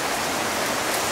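Rain falls steadily during a bike ride, a close, even hiss of drops with no talking.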